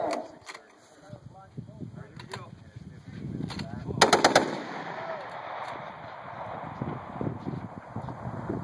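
A quad mount of .50 cal BMG machine guns fires loud, sharp, rapid bursts with echoing booms rolling out between volleys, heard outdoors at moderate distance.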